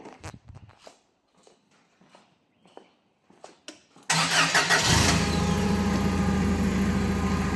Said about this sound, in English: What I'm going to do now is I'm going to turn the forklift on